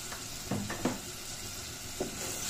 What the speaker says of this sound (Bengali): মশলাটা একদম মিক্স করে নিব, কষাই নিব ভালোভাবে